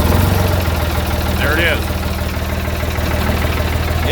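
An old Ford diesel backhoe engine idles nearby with a steady, low, throbbing rumble. Someone speaks briefly over it.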